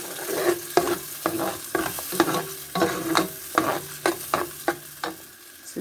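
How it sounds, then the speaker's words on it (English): Assorted meat stew cooking in a pot, a soft bubbling sizzle broken by repeated scraping stirs in an uneven rhythm, close and moderately quiet, with no talking. "This is the stew now."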